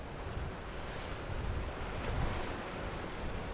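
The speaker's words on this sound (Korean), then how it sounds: "파도와 바람," Ocean waves and wind roar continuously below a coastal suspension bridge in Tongyeong, a dense, steady wash of surf with gusty wind buffeting the microphone.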